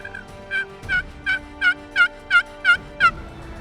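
Wild turkeys in the woods gobble in a run of eight quick, rattling calls, loud and fairly close, with no talking.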